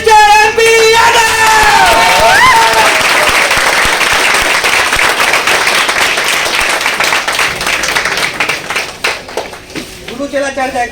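Loud audience applause with cheering and whoops at a stage event opening in Bhagalpur, a dense wall of clapping from the start that fades slightly near the end, with a voice calling out over it.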